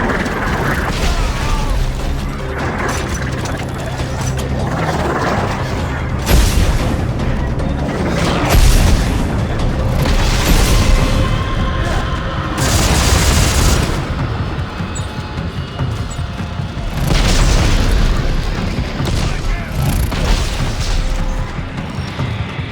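Rocket explosions hitting the player in Dead Space 3, with repeated heavy booms and crashes over a dense rumbling mechanical backdrop, loud and continuous throughout.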